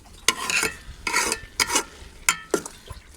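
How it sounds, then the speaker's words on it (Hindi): Carrots cooking in milk are stirred in a pot with a spoon, making several close scraping and clinking strokes in an uneven rhythm, with quiet gaps between them. "अपने चम्मच को मुसलसल हिलाते रहना ताकि ये हमारा गाजरें नीचे ना लगे"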